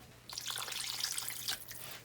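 Water poured from a tap into a cooking pot in a home kitchen, a short splashy gush of about a second and a half, close and fairly soft.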